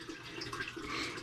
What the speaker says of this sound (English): If you hear the water running in the background, that's my fish tank. Well, technically my turtle tank.